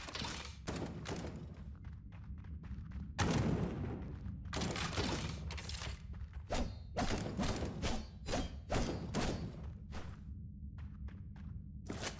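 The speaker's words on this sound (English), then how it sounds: "How are you shooting me through the wall?" Gunfire in the video game Death Trash arrives in sharp, loud bursts of shots with thuds and whooshes between them, separated by short quiet gaps.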